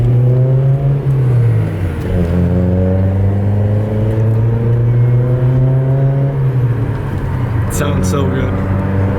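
SR-Z car engine loud and near on its first drive, droning and rising in pitch as it accelerates, dipping briefly between gears, with people talking over it.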